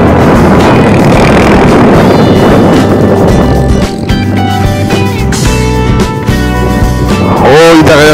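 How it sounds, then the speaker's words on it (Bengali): A speedboat engine drones loud and close at Ramchandi beach near Konark in Odisha, with strong wind buffeting and the pitch shifting and rising toward the end. "আর এই স্পিড বোটটা আবার চললো কিছু লোককে নিয়ে।"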